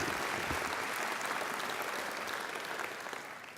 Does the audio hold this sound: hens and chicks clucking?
no